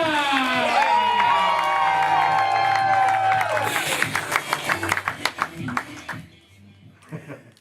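A crowd cheering and applauding loudly, whoops and shouts over steady clapping, then the applause breaks into scattered claps as a voice begins speaking.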